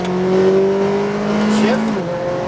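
A McLaren GT4 race car accelerates on a track, its engine note climbing loud and close before a quick shift drops the pitch, with a voice speaking briefly over it.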